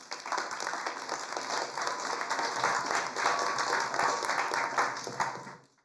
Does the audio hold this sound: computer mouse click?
no